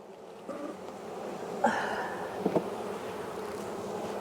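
Honeybees buzzing at an open beehive, a close steady hum with individual bees droning past and a couple of light knocks from the hive, no voices.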